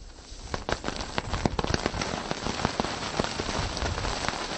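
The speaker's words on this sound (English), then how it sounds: "As such, lithium explodes, creating a lot of hot sparks." Burning lithium on wood explodes and throws hot sparks, giving a dense, continuous crackling and sizzling with many sharp pops, loud and close, with no voices.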